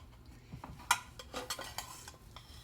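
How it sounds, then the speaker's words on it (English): Spatula scraping and lifting a small frittata out of a pan, a few soft metallic scrapes and light clinks of utensil against cookware, close and fairly quiet with no talking. "Now I'm going to take my spatula, just lift this out."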